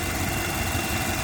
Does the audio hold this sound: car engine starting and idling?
yes